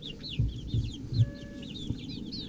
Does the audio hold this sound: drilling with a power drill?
no